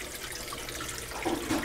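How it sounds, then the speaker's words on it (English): Water flows into an aquaponics bell siphon in an NFT setup, a steady, fairly quiet trickle and splash with a few gurgles near the end. "Water coming in."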